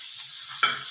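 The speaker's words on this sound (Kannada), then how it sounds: "ಚೆನ್ನಾಗಿ ಹುರ್ಕೊಳ್ಳೋಣ ಕ್ಯಾಬೇಜ್." Chopped cabbage sizzles in hot oil in a kadai for cabbage palya, with a steady hiss and a single louder scrape of stirring near the end; no one speaks.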